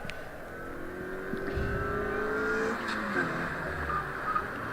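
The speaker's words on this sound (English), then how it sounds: "So Robin Wood having a fun day with the family rally car." A family rally car accelerates at the Harewood hillclimb, its engine note rising through the gears with a steady, moderately loud drone and a couple of gear-change dips, heard from a distance without any talk.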